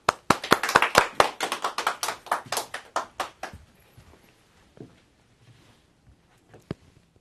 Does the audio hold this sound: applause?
yes